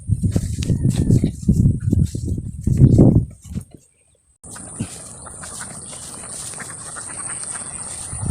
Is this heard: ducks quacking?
yes